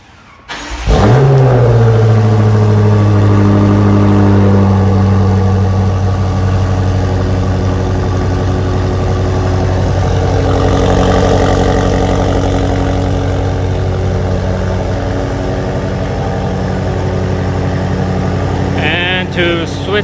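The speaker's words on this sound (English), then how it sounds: "I'm gonna use the remote engine start to do it" A 2021 BMW X6 M Competition SUV engine starts by remote start and settles into a steady, loud idle with a low rumbling hum that continues throughout, close by.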